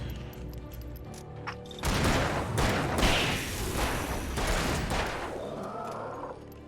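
Gunfire in the video game Alan Wake, a dense burst of shots and thuds starting about two seconds in and continuing loudly to near the end, with no talk over it.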